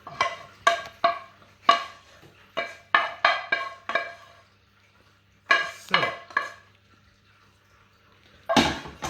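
Cooked beef and onion mixture is scraped from a pan into a dish, with a series of sharp metallic clinks and scrapes of a utensil, irregular bursts separated by short pauses, close and fairly loud.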